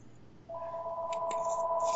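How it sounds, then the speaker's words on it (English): A home telephone rings from across a room, a steady electronic double tone that starts partway through and keeps going, fairly loud, with no talking. "Oopsies, my phone is ringing, sorry. That's my home phone."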